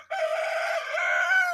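A young rooster crowing one full cock-a-doodle-doo, close and loud, a single sustained call with a slightly rough, uneven tone.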